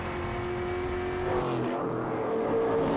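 V8 touring race cars at Ruapuna roar loudly, engines revving high then dropping in pitch as they pass, a steady racing drone.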